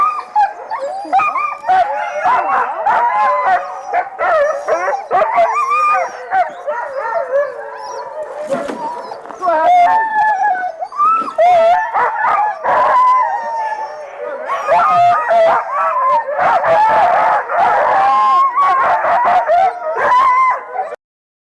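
Several sled-type dogs in an outdoor dog yard howl, yip, whine and bark together in overlapping, close, loud bursts, with brief pauses and occasional human voices.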